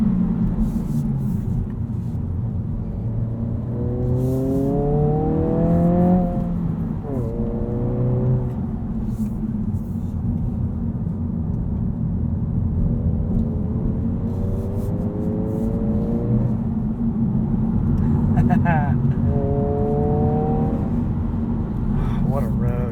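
A 2022 Honda Civic Si sedan's engine, with a somewhat artificial tone, hums steadily from inside the cabin, rising in pitch through several rev sweeps as gears change on a road drive, with a low rumble underneath throughout.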